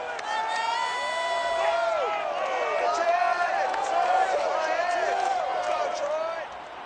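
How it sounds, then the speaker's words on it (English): A stadium crowd of about 65,000 cheers and whoops at Ford Field in Detroit before a Raiders–Lions game in Madden NFL 22, a steady, loud roar of many voices with rising and falling shouts that fades slightly at the end. "A good crowd on hand and seemingly ready to go in the Motor City."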